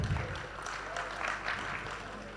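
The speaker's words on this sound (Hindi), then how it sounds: "एक बार उनके लिए जोरदार तालियां" Applause rises from the audience at a mushaira poetry gathering in Lucknow, a dense spatter of clapping under and between bits of talk over a short stretch.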